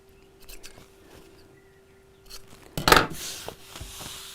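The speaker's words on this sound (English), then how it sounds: "And then I'll snip off the corners just like before to cut down on bulk." Scissors snip the fabric corners off a sewn bag, one sharp close cut standing out among quiet handling sounds.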